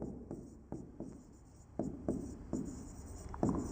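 Pen or chalk writing during a Hindi biology lesson, a series of separate scratchy strokes and taps at an uneven pace, close and moderately quiet, with no speech.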